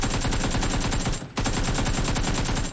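An AKM rifle in PUBG fires continuous full-auto bursts, punchy rapid shots in a tight, even rhythm, loud and close, with one brief gap before the stream resumes.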